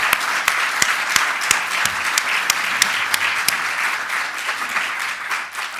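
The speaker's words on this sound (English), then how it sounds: "How about a round of applause for President Brunix and David Madsen?" Warm audience applause after a university distinguished lecture, many hands clapping in a dense, steady wash with sharp individual claps standing out, sustained for several seconds at a fairly loud level.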